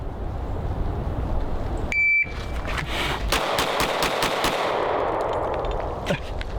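Concealed carry pistol fired at target practice on a cold-weather range: a short electronic timer beep, then a fast string of about six or seven sharp, loud shots, followed by one more shot a moment later.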